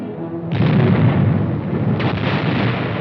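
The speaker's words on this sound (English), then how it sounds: "The air bursts fired by a battalion of 105mm howitzers present a lively show." Air bursts from a battalion of 105mm howitzers: a deep, rumbling roar of artillery fire that surges in abruptly and keeps booming and rolling, with a second swell of blasts midway.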